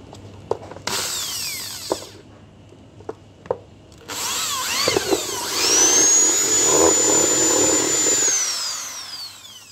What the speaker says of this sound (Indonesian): Nanti kita bor pas tengahnya buat asnya ya.